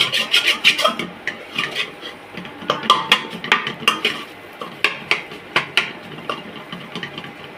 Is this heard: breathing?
no